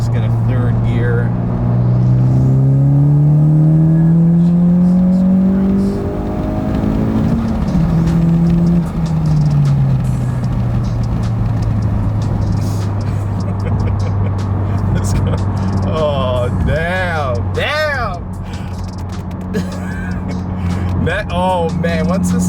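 A 10th-gen Honda Civic Si pulls hard in third gear with the window open, the engine note climbing loudly before an upshift, then a steadier drone with road noise as someone talks over it.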